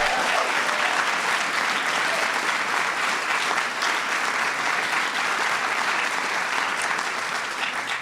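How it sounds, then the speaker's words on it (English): Audience at the 2016 Kennedy Center Honors gala applauding: a full, even wash of clapping that runs unbroken from start to finish in a large hall. "Give them a big round of applause"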